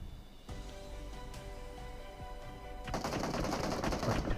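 Gunfire in the PUBG battle game, a steady close mechanical hum broken by a sudden dense burst of rapid automatic shots that keeps going loudly to the end.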